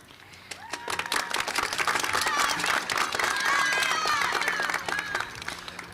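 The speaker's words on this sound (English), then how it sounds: "that definitely deserves a round of applause for us" A middle school promotion audience bursts into dense applause that swells quickly, holds loud and steady with scattered cheers and voices mixed in, then thins slightly at the close.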